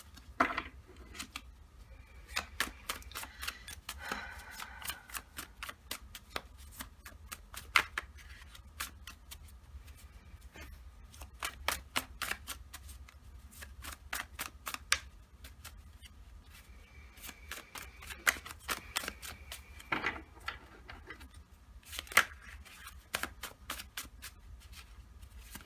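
A deck of oracle cards being shuffled by hand, with rapid riffling flutters and soft card slaps in repeated bursts across a quiet room, no talking.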